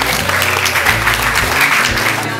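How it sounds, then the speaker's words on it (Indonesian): Sustained applause from an audience at a talk show and film discussion event, continuous clapping with a low hum of crowd beneath, fairly loud throughout. "tepuk tangannya dong"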